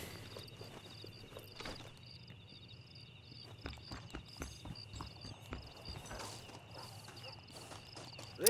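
Horse hooves clip-clop in Red Dead Redemption, a soft, fairly quiet walking rhythm over a steady ambient hum, with a faint voice in the background.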